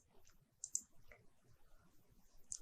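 A computer mouse clicks OK in engineering software, a soft double click early on and another single click at the end, close and faint in a quiet room.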